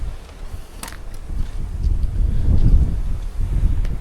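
Strong wind gusting through a canyon beside a river, a broad low rumble of buffeting air that swells and peaks midway, with faint rustling and no talk.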